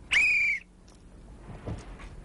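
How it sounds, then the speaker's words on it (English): A single loud whistle blast, held for about half a second, stands in for a home fire alarm during a family evacuation drill, followed by quiet room noise and faint movement. "we're gonna blow a whistle here to simulate the alarm going off"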